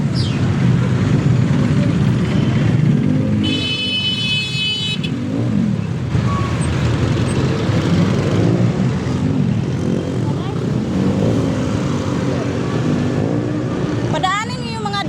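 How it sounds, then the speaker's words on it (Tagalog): Busy street traffic with many vehicles rumbling past continuously, engines droning loud and close, with horn-like tones and whines cutting through while people talk over the din. "Maingay, dami sasakyan."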